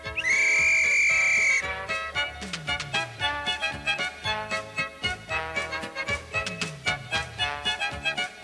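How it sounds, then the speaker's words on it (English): A loud, steady whistle blast lasting about a second and a half, followed by upbeat music with rhythmic percussion. "I'm going to blow me whistle"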